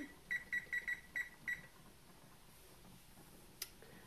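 A kitchen timer is set for 20 minutes while cooking cilantro chicken, giving six quick electronic beeps in a short burst, then quiet room tone and a single soft click near the end.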